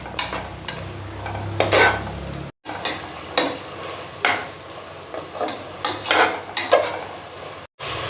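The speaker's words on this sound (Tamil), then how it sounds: "இப்போ தக்காளி எல்லாம் நல்லா வதங்கியாச்சு." Tomatoes, ginger and garlic sautéed in a pan for mushroom biryani, a close, loud, steady sizzle broken by regular scraping stir strokes and light clatter of the utensil against the pan.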